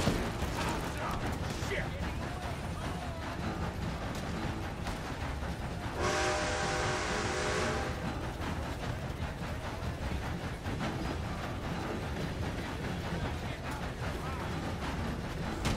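A train in the Red Dead Redemption 2 video game rolls along with a constant heavy mechanical rumble and clatter, a loud whistle blast rising briefly partway through before the steady running noise continues.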